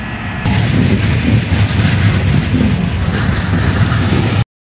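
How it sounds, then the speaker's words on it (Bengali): A Vande Bharat Express rushes past close by at Tatanagar station, a loud steady roar of rail noise and rattling carriages that begins abruptly and holds for several seconds. "বন্দে ভারত এক্সপ্রেস আমাদের পাশ দিয়ে যাচ্ছিল"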